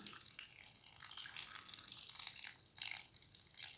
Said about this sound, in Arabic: طبعا كده هننزل باقي المحلول بتاعنا